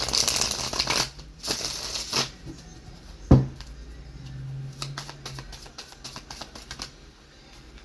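Tarot cards being shuffled and handled at close range, soft papery riffles and taps in short bursts separated by quiet gaps, with one sharper knock partway through.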